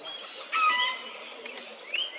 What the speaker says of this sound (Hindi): तो जंगली मुर्गियाँ कंटिन्यूसली कॉल्स कर रही हैं, जिसे आप अलार्म कॉल्स या वार्निंग कॉल्स भी कह सकते हैं।